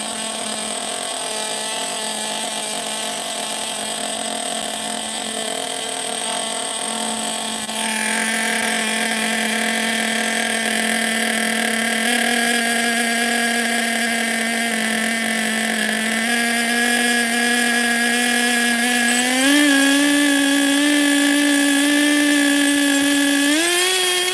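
An OFNA LD3 nitro RC car engine idles with a steady, high, buzzing whine. The pitch steps upward as the idle speed climbs, and it stays loud and close throughout with no voices.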